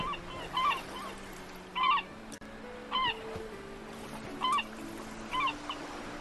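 Seagulls in the island game Island Time give short, repeated squawking calls at regular intervals over a quiet, low background, moderately close, with no talking.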